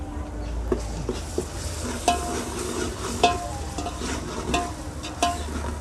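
Onions, ginger and garlic sauté in hot oil for chicken biryani, with a steady sizzle and stirring scrapes and clinks from a utensil in the pan every second or so, close up.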